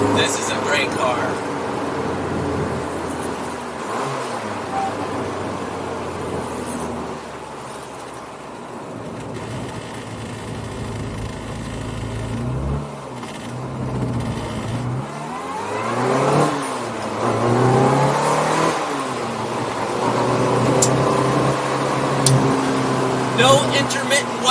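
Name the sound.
1966 Austin Mini Cooper S engine while driving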